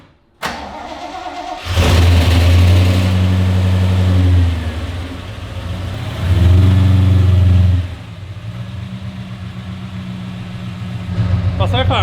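A Holden HQ with a newly fitted limited slip diff starts up and sets off on a test drive. The engine catches, then revs hard in two long loud pulls with idle between, up close, while people talk over it.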